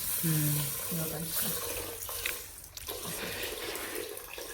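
Hot water pours and splashes steadily onto moong dal from a tap or vessel, with a short low voice at the start.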